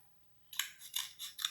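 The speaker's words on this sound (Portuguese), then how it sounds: "Depois, pegar a tesoura," Scissors cut paper for a classroom math game, making three crisp, close snips in quick succession after a brief quiet moment.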